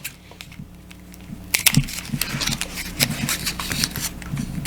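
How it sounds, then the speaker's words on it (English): Scissors snip and crunch through paper close by, a run of crisp cuts and rustles following some quieter handling, while crafting a prop spell book. "All you're going to do is take your scissors,"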